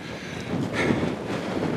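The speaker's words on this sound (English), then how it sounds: "You can hear that wind blowing." Strong wind gusts across an open pasture in Iowa in late March, buffeting the microphone in a rough, rushing roar that swells slightly partway through, close and loud with no talk.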